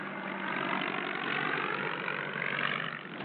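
A vintage World War I Spad biplane engine drones steadily and evenly, a continuous mid-pitched hum that stays at a moderate, unchanging level with no voices.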